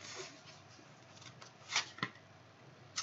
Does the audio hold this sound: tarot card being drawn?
yes